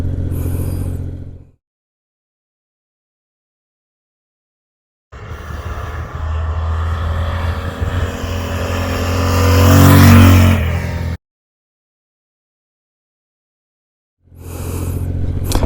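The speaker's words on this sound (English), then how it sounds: "this is the inaugural ride just around the neighborhood of the Goldwing pulling the trailer" A 1991 Honda Goldwing GL1500 motorcycle pulling an Escapade Classic trailer revs in two separated bursts, the engine climbing to a loud peak before cutting off, then starting again briefly at the end, with silence between.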